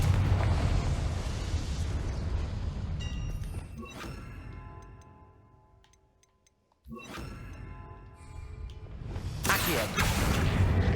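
The Confringo blasting spell in Hogwarts Legacy: a loud whooshing explosion that fades away, a brief near-silence, then another burst of blast and rumbling that swells again toward the end.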